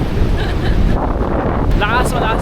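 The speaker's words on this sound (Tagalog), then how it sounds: "Hindi ko alam kung naririnig niyo kami kasi malakas yung hangin" Strong wind buffeting the microphone on a Boracay beach, a loud roaring rumble with surf mixed in, close and continuous, and voices faintly heard over it.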